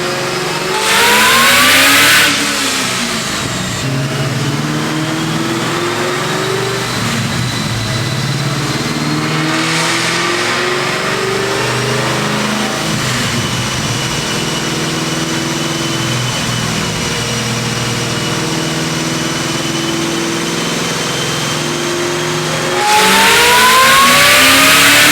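A supercharged Ford Terminator Cobra with a ported Eaton supercharger runs up close and loud, revving sharply at the start and end with lumpy idling and smaller throttle blips in between.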